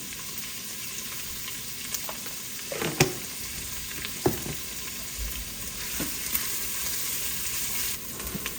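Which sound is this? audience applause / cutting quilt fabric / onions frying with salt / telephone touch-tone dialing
onions frying with salt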